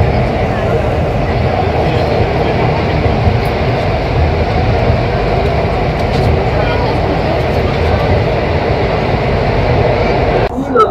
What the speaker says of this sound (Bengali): এখন গঙ্গার নিচ দিক দিয়ে মেট্রো ছুটে চলেছে পুরো 520 মিটার